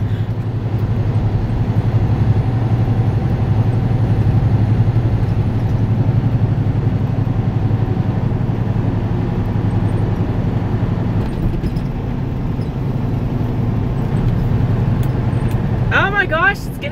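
Big truck cruising at speed on the road, heard from inside the cab as a loud, steady low engine drone and road rumble with some rattling, and a voice talking over it throughout.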